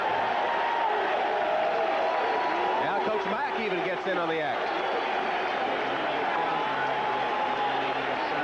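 Football stadium crowd at a 1992 Seahawks–Patriots game, a steady roar of cheering that runs the whole time beneath a commentator's voice.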